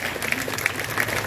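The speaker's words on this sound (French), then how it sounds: "Nous applaudissons, s'il vous plaît." Brief burst of audience applause at a school reopening ceremony marking the first day of the academic year, dense clapping filling the moment without speech.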